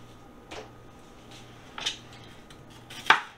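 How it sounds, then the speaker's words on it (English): Knife cutting an onion into thin slices on a board, a few sparse, sharp knocks and clicks spaced about a second apart, quiet and close with no voice. "I think I'll go ahead and slice it into thin slices similar to the size of the noodles or just a little bit bigger"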